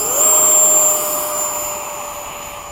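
A BAE Hawk jet engine roars during a formation takeoff in freezing cold, a loud steady whine and rush with a high pitched tone that eases slightly over a few seconds.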